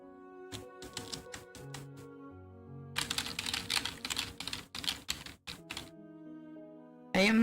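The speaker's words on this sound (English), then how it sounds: "can you hear my keyboard a little bit too much?" Computer keyboard keys clatter in quick irregular bursts near the microphone, with sparse taps at first, then dense rapid typing, over faint background tones.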